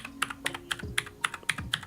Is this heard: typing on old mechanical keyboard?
yes